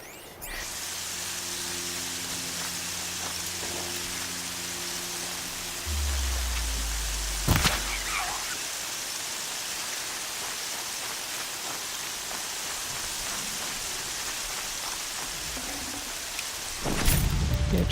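Steady hiss of rain falling all around in the video game Horizon Zero Dawn, with a low tone briefly underneath and a sharp clap partway through.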